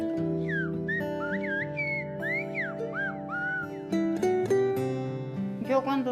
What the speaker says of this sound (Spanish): cogía mi silbo y los llamaba